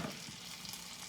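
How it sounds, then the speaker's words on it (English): Bell pepper and red onion sizzle steadily in a hot pan, a loud, continuous crackling hiss that fills the whole moment with no talk over it. "And it's sizzling too loud."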